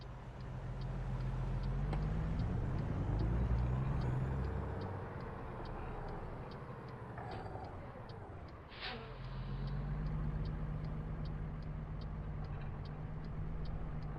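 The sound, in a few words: road traffic in American Truck Simulator video game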